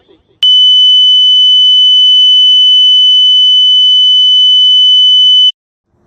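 A steady, piercing electronic tone played from a mobile phone starts abruptly and holds one unchanging pitch for about five seconds, loud and alone, then cuts off sharply.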